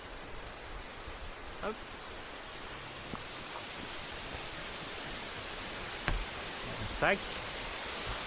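The Cascade de Sillans waterfall roars in a steady, dense wash of rushing water, with brief voices and a few small clatters nearby.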